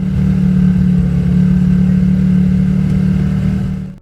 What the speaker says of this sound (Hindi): जैसे ही सिग्नल ग्रीन हुआ और बाइकर बाइक लेकर निकलने लगा